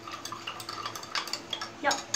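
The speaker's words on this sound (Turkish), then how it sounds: "Şimdi bunu böyle güzelce bir karıştıralım." A spoon stirs sugar into lemonade, giving light repeated clinks and scrapes against the container, fairly close, with a brief louder clatter near the end and some quiet background voice.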